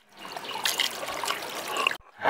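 Food being washed under running kitchen tap water, a steady close splashing trickle that cuts off briefly near the end before resuming.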